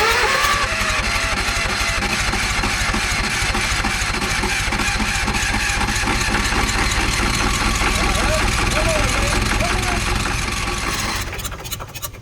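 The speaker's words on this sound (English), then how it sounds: "I find that these small diesel engines don't like a lot of ether." The small diesel engine on an engine-drive welder cranks and catches on ether, running with a loud, rough, rapid chugging rattle that holds steady close by, then stumbles and fades near the end.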